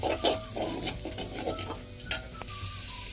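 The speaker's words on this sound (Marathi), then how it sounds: "ते थोडंसं हलवून घ्यावं, पूर्ण मिक्स करावं।" A utensil scrapes and stirs horse gram flour batter in a pan over a steady sizzle, with a few metallic clinks and taps.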